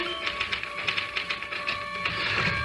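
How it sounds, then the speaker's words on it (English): Typewriter typing, a fast run of sharp mechanical key strikes in an uneven rhythm, close and clear over a faint steady hum. "Can I use the typewriter for a moment?"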